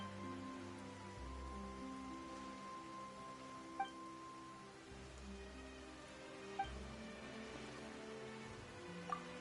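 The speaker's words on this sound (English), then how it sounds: "Why is it raining all of a sudden?" Rain falls steadily in the video game Genshin Impact, a soft continuous patter with a few faint drop-like ticks, heard beneath gentle sustained background music tones.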